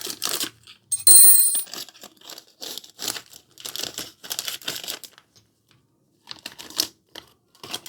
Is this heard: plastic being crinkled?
yes